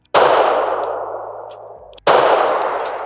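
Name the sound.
pistol shot shattering a bottle target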